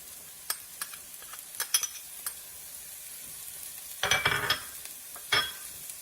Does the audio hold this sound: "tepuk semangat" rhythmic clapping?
no